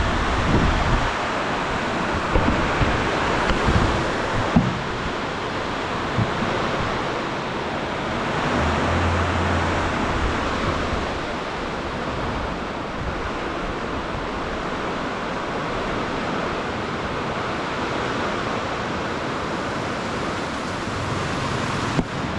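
Strong typhoon wind roars steadily, a broad rushing noise like a storm, loud and continuous with occasional gusts and knocks, no talking.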